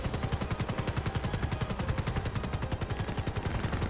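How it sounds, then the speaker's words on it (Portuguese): Rapid automatic gunfire in GTA 5 in a steady stream of sharp, evenly spaced shots, fairly quiet overall, with no talking. "Opa, tiro! Tiro,"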